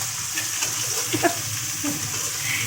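Ingredients for a sour mourola fish curry with mango fry in a pan, a soft steady sizzle with a few light stirring clinks, moderately close and unvoiced.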